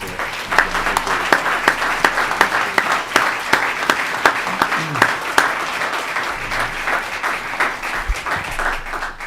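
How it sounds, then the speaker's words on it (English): Sustained applause from a crowd at a school board meeting, dense steady clapping with a few sharper individual claps standing out throughout. "we give them a round of applause"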